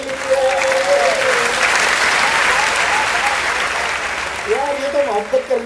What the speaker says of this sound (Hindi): बजाइए तालियां सब लोग।